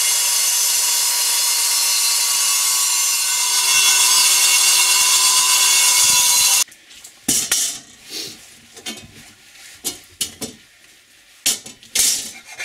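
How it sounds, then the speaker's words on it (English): An angle grinder cutting a steel steering plate for an iceboat makes a loud, steady high-pitched whine for several seconds, then stops, followed by scraping and clattering handling noises. "With an angle grinder, I cut out the profile."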